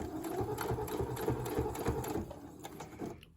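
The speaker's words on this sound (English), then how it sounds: "I'm just going to use this edge of my foot to go ahead and stitch around." Sewing machine running steadily as it stitches around a quilt's self-binding, a fast even mechanical whir with rhythmic needle ticks up close, winding down and stopping at the end.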